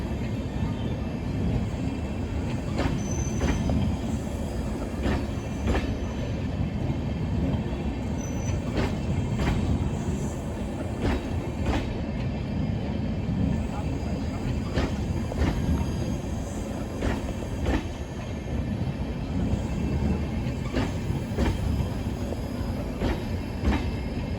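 Purulia–Anand Vihar Express running, heard from inside the coach: a continuous loud rumble and rattle of the carriage with rhythmic clacks from the wheels on rail joints throughout.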